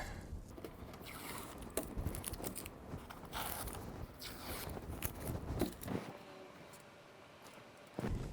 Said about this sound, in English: now I'm going to peel off the masking and I'll show you what the problem is